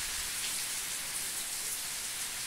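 Heavy rain with wind in Ceará, Brazil pours down as a steady, dense hiss of water on surfaces, loud and unbroken throughout with no voices.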